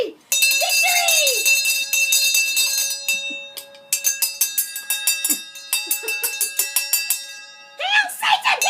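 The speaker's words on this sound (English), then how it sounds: "Alright, want to ring the bell?" A bell rung repeatedly in bright, ringing strikes that sustain and decay, with a pause mid-way before a second run of rapid strokes; a voice speaks briefly at the start and end.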